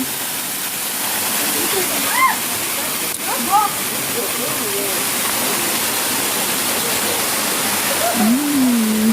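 Kalidonia Waterfall on the Troodos trail near Platres roars as a constant loud broadband rush of falling water, while people's voices chatter faintly over it.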